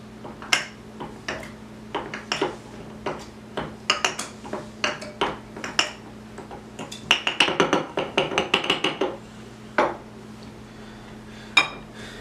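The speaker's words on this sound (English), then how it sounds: "you're going to muddle everything, get all those mint leaves and their oil into your drink" Mint leaves are muddled in a glass mason jar for a drink, with a muddler striking and grinding against the jar in repeated close knocks and clinks, speeding into a quick burst of taps before slowing again.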